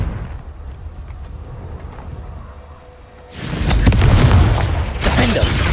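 A Confringo blasting spell explodes in the Hogwarts Legacy video game, giving a sudden loud boom after a quieter stretch, then a rumbling tail and a second burst near the end.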